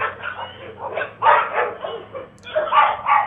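Several village dogs bark and yelp in quick, overlapping bursts while attacking an elderly woman, fairly close, with a brief lull before another flurry.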